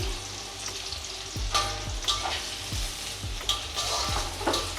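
Medium-sized onions fry in hot oil for a Bengali katla fish kalia, with a steady crackling sizzle and a few sharp spatula clinks against the pan.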